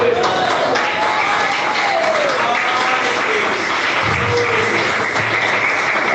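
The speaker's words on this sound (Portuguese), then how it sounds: "Pode bater palmas." A church congregation claps together in sustained, dense applause throughout, a steady wash of hand claps with a faint voice in the background.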